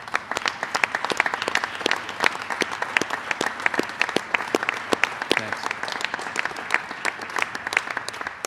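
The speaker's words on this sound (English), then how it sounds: "Let's give these folks a round of applause" An audience applauds the Pennsylvania DCED team as they stand to be recognized, a steady round of clapping with many distinct, crisp individual claps, sustained at moderate loudness throughout.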